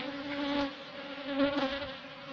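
Honeybees swarm around a hive split from a division, their steady dense buzzing close and continuous, swelling slightly at moments, with no voices.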